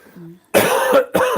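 Two harsh, loud coughs close to the microphone, separated by a brief pause, after a soft murmur at the start.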